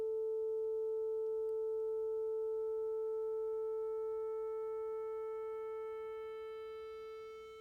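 A steady electronic sine tone with stacked overtones from harmonic saturation that grow brighter and buzzier over several seconds, nearing distortion, then fade slightly toward the end.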